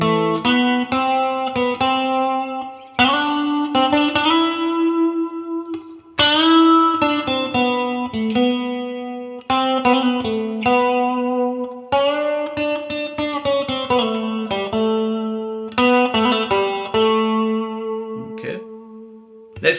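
An electric guitar plays the single-note melody of a riff, clear picked notes in a steady phrased line with effects-laden sustain and reverb, no voices.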